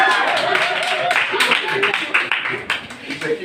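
A small group of students claps in a lively online math class, scattered hand claps running under overlapping talk and cheering throughout.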